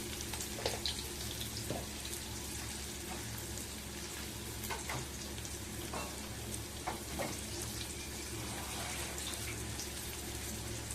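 Chopped onion sautés with salt in a pan, giving a steady, even sizzle and crackle with occasional stirring scrapes, fairly quiet and close, with no talking.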